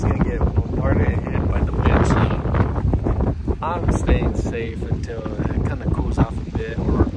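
Strong wind buffets the microphone over choppy water from a small boat, a steady loud roar throughout, with someone talking over it.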